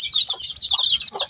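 Chickens and chicks penned in a cage keep up a loud, close chorus of shrill peeping and clucking, nearly continuous with one brief dip, and no one talks.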